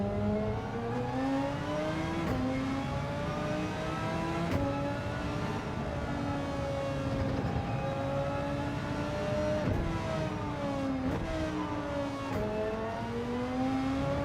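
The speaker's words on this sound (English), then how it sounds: "Not so sure what I think of the engine note of this car" A race car engine in a racing video game drones steadily at high revs, pitch sliding up and down through repeated gear changes, with no voices.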